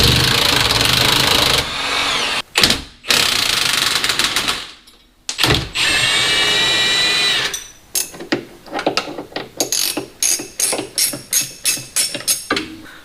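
A power tool whirs in bursts while unbolting a shock on a Jeep Cherokee XJ during a 3-link install, with short buzzing runs, clanks and pauses, ending in a series of rapid rhythmic pulses.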